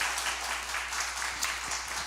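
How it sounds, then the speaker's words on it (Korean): A Korean church congregation at a revival meeting claps in encouragement for visiting guests, a brief, fairly distant patter of applause with uneven rhythm, soft and steady. "여러분 격려의 박수를 한번 쳐주세요."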